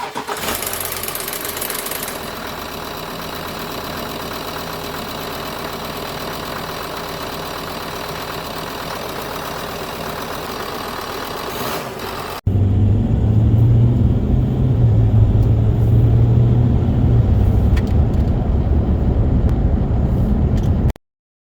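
A Ford Territory diesel engine runs after a cam belt replacement, first with a steady mechanical whine and rattle, then a louder, deeper idle with a diesel rumble close by that ends abruptly.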